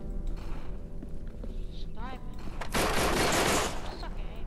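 Gunfire from a gun in the video game No More Room in Hell ends in a loud, dense burst of blasts, preceded by shuffling and game noise with a voice talking.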